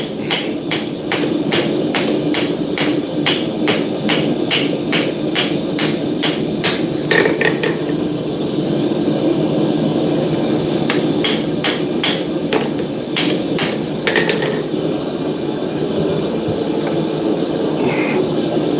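Hammer blows on a forge weld fluxed with borax ring out in a fast, regular run of sharp metallic strikes, then pause before a second burst of ringing blows, loud and close over a steady background hum.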